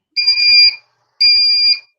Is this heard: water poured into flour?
no